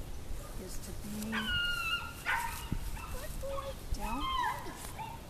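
An Old English Sheepdog and Basset mix whimpers and gives thin, high yips during down-position shaping training, near and fairly faint, while a trainer talks quietly.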